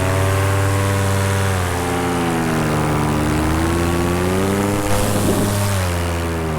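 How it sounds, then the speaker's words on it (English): A Polini engine runs while riding in the Valley of Fire near Las Vegas: a loud, steady, close droning buzz whose pitch wavers slightly throughout, with a brief voice near the end. "The Polini seems to be running smooth."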